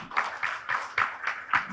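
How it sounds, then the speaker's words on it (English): Hands clap at a panel discussion on generative AI in retail, six or so distinct claps in a steady, even rhythm, fairly close and moderately loud, with no talking over them. "A big round of applause to the people who've taken the time to come here."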